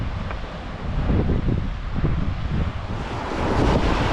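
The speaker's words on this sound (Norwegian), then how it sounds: "det blåser ganske kraftig her" Strong wind buffets the microphone at the seashore during summer sea trout fishing, a loud, heavy, continuous low rumble that swells toward the end, with a hiss of surf mixed in and no talking.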